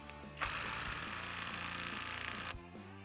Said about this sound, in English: Noise test when it's impacting.